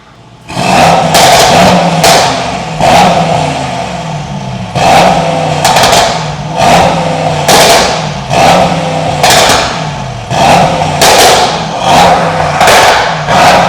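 A Mercedes E63s with a stage 2 tune, decat downpipes and its exhaust valves open is revved repeatedly: about ten loud, close, snarling blips rise and fall in quick succession, each ending with a crackle.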